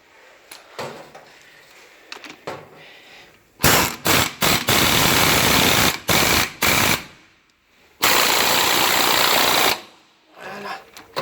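A pneumatic impact wrench tightening a car shock absorber fires in loud, rapid rattling bursts of a second or two each, separated by pauses and quieter handling noises.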